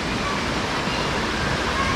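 River water rushes steadily at a shallow stream bathing spot, a loud, even, continuous roar of flowing water without breaks.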